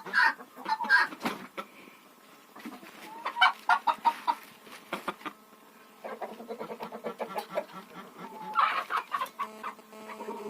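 Hens clucking at their nests inside a village henhouse in Ukraine, a crowded, busy chorus of overlapping clucks and squawks close by, with bursts of louder cackling and no talking.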